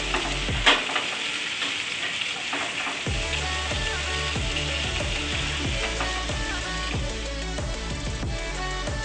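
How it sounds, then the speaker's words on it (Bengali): Chicken pieces for tandoori chicken sizzle steadily in a pan, a close, continuous frying hiss broken by a repeated scraping, ratcheting stir as the pieces are turned. "দু পিঠ ভালো করে ভাজা হয়ে গেছে"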